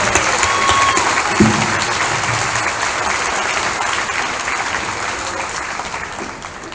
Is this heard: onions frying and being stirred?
no